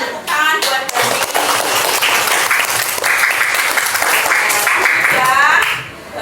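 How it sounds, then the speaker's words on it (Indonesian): Children in a classroom applaud a student, loud, dense clapping from the whole class that carries on for several seconds, with young voices mixed in. "Oke, tepuk tangan buat Danis."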